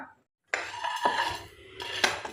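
Curry leaves dry-roast in a hot pan for a Wayanad-style mango pickle, giving close, bright scraping and rattling bursts as they are stirred and tossed, with no talk.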